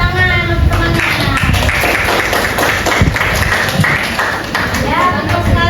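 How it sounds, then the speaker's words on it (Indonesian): Classmates applaud in a classroom, a steady dense clatter of many hands clapping at close range over most of the stretch, with voices and chatter mixed in. "Beri tepuk tangan untuk teman-teman."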